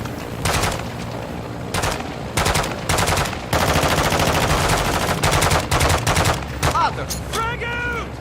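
Gunfire in Call of Duty DMZ, loud bursts of automatic fire in several volleys, some long and sustained, close and dense, followed by a few chirping electronic tones.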